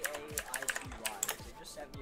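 Hard, fast typing on a computer keyboard, a dense run of close, sharp clicks and clacks struck forcefully in uneven rhythm.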